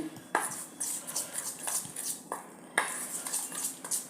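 A spoon clinks and scrapes against a bowl while mixing gram flour and a little maida into batter, in irregular close taps and knocks with no talk.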